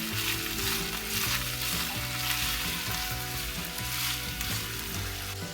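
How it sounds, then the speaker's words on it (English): Squash and zucchini fry in a pan for a Moroccan chickpea and vegetable tagine, a dense, constant sizzle with a steady tonal hum underneath, close and fairly loud. "Give all these veggies a good mix."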